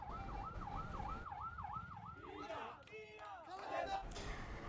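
An ambulance siren wails in a steady rising-and-falling cycle for about two seconds, then breaks into overlapping siren tones amid loud street noise and crowd murmur, with talk in the background.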